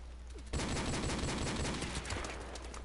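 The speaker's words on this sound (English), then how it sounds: "Okay, I'm clearly shooting this guy." Sustained automatic gunfire in a Call of Duty match, a dense continuous burst starting abruptly and rattling on at a moderate level.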